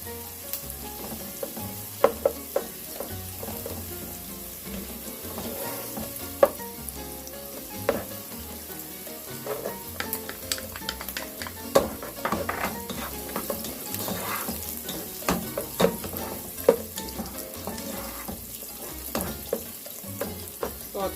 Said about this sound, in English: So I'm just going to saute this for like 2 minutes,